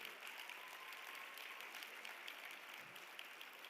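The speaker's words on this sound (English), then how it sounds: "let's give him a round of applause for all the work that he's been doing." Faint, distant audience applause at a live event, a soft continuous wash of clapping with no speech over it.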